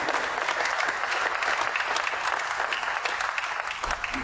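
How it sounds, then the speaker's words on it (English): An audience at a press event on electric bus funding applauds the mayor, a continuous, fairly loud wash of many hands clapping at an even level throughout, with no voices standing out. "Let's give our mayor a very big round of applause"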